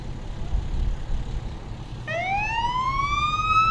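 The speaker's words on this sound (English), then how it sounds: "Another number 3 fire truck." A fire truck siren starts up in a Christmas parade, rising steeply and then holding a loud wail over the steady rumble of a vehicle moving past.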